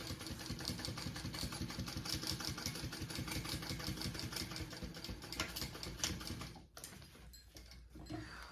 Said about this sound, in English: I'm gonna do another row of stitching right underneath that row